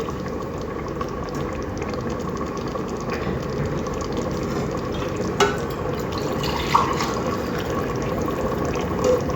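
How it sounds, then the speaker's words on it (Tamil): Water is poured into a pot of mutton biryani, making a steady, continuous rushing and bubbling hiss that runs evenly throughout, with a couple of brief clinks, and no one talks. "நம்ம தண்ணி ஊற்றுவோம்"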